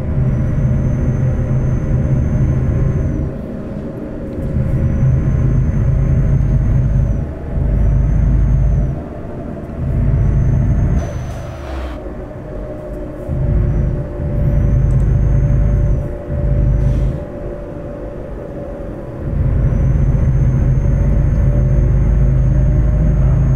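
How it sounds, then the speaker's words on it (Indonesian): Engine brake on a Hino Lohan 500 truck in Euro Truck Simulator 2, a steady loud diesel rumble that swells and drops in repeated pulses, with a faint hissing whine above it. "Engine brake juga ada."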